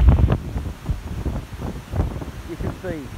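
Wind gusts over a wet, rainy Euston Road, rumbling and buffeting heavily against the microphone in uneven surges while faint street noise sits underneath.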